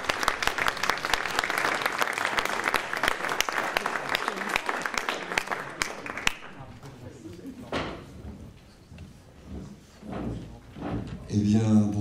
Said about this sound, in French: Alors je vous demande de l'accueillir et de l'applaudir,